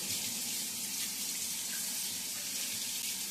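Tap water runs steadily into a sink while ackees are rinsed, a constant close hiss of flowing water alone for a few seconds.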